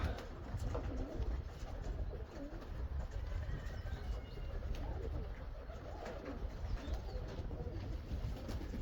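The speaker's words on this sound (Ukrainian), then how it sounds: "Це голуби далеко не в фізичній формі." Pigeons coo softly amid a busy low rumble, several birds calling at a distance with faint chirps scattered throughout.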